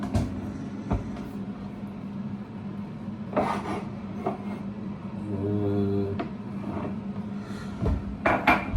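Cups and cutlery clink and scrape on a kitchen counter while tea is made, with scattered taps, a spoon knocking, and a low steady hum beneath.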